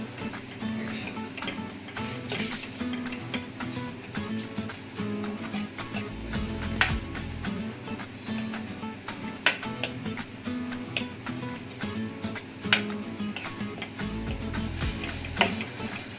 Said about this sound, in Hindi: मसाला बहुत अच्छे से फ्राई हो गया है